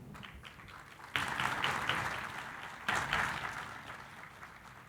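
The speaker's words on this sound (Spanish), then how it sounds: "a quien recibimos también con un fuerte aplauso" An audience at the AQUASUR 2024 aquaculture panel applauds to welcome a speaker, a moderate crowd clapping that swells twice and fades, with no talking.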